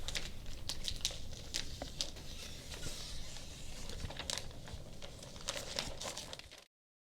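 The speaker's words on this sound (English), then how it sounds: "cut the excess plastic away by tracing the magnetic strips with your knife" A knife slicing and tearing excess plastic sheeting along magnetic strips while a ZipWall dust barrier is set up, giving a close, continuous crinkling scrape with sharp ticks that stops abruptly near the end.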